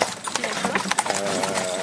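Carriage horses at a national stud farm clip-clop steadily on hard ground, a dense loud rhythm of hoofbeats mixed with someone talking and general outdoor noise.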